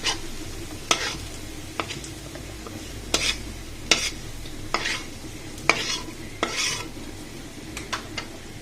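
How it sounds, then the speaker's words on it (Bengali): A spatula scrapes and clinks repeatedly against a pan as onion and garlic fry, with a low sizzle underneath and sharp metallic taps at irregular intervals, close and moderately loud. "দেখো বন্ধুরা পেঁয়াজ রসুনগুলো ভাজা ভাজা হয়ে গেলে এগুলোকে আমি উঠিয়ে নেব"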